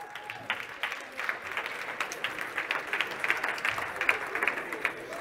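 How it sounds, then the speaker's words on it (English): Audience in a conference room clapping at an education event, a sustained round of many hands applauding, moderately close, with slight swells and a few louder individual claps. "you can stand up and everybody else is going to clap for you"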